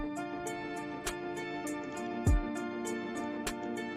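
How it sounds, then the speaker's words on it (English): A bright, high-pitched guitar melody plays over a steady beat, with regular drum hits and a deep bass drop partway through. "So we're going to add one more top melody of the guitar."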